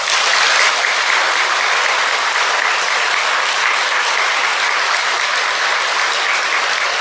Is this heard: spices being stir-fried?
no